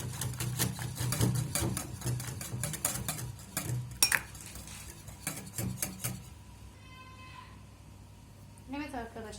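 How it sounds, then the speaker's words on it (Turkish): Cutlery clinks against a bowl as liquid ingredients for a crispy soda börek sauce are stirred briskly, a rapid run of light scraping taps that stops abruptly, followed by quiet room tone and a short voice. "Sıvı malzemelerimizi iyice karıştıralım."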